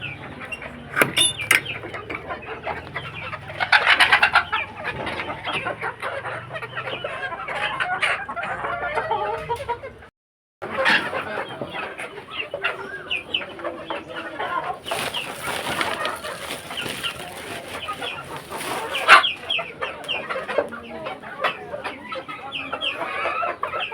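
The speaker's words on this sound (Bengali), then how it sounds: "মুরগিগুলোরা সকালবেলা খেতে দেওয়া শেষ, এখনো খাবে, ডিম পাড়েনি এখনো একটা" Farmyard hens cluck steadily through the morning, with occasional louder squawks and a rooster-like call. A brief silent gap falls near the middle, and faint human sounds stay in the background.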